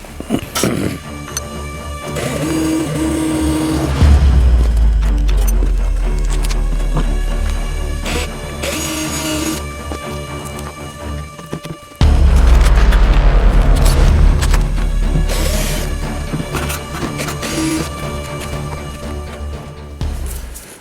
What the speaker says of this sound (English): So now I'm going to make these holes.